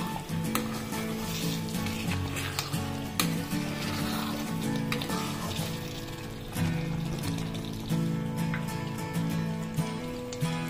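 Amritsari street-style paneer bhurji sizzles in a pan on a slow flame while it is stirred, with steady frying crackle and repeated scraping and clinking of the spoon against the pan.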